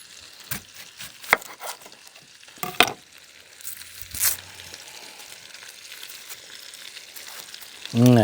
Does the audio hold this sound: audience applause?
no